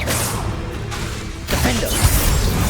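The Bombarda blasting spell in Hogwarts Legacy goes off as a sharp swoosh followed by a heavy, booming crash, with loud bursts and rumbling impacts packed together in quick succession.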